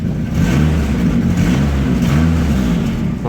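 Vauxhall Astra Mk5 with a swapped B204 turbo engine revving, a loud close mid-pitched engine note rising and falling in a few pulses, with an exhaust blow from a joint midway along the car.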